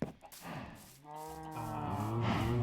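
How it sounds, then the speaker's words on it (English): Cows in a Minecraft pen give several drawn-out moos of the blocky video game's livestock, with moos overlapping in the second half and growing louder and fuller toward the end, with no talking. "This is my cow pen."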